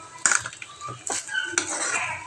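A metal spoon scrapes and clinks against a pot while stirring coconut rice, with several distinct clanks and scraping strokes close up, no talking.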